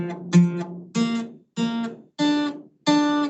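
A trumpet plays five separate held notes of the harmonic series in turn, each a bright, brassy tone lasting about half a second with short gaps between, clear and fairly close.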